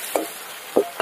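Tuna fish eggs frying in oil with onion and green chili, an even close sizzle punctuated by three brief stirring scrapes of a spatula, with no speech.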